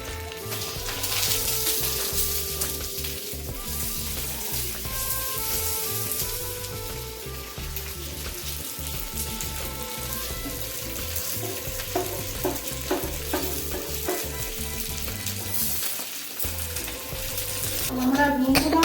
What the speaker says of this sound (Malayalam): നമ്മുടെ മൂന്നാമത്തെ ഫിഷ് നമ്മൾ ഫ്രൈ ചെയ്തു, ബനാന ലീഫിനകത്തുള്ളത്.